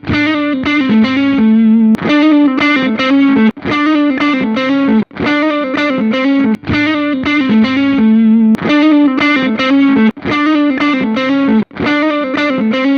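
An electric guitar riff through four Tube Screamer-style overdrive pedals, played back to back, repeated several times, loud and gritty, with brief pauses between passes and no talking.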